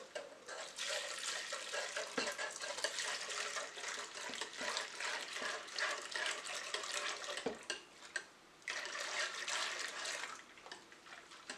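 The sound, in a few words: flan custard mixture being poured into a pot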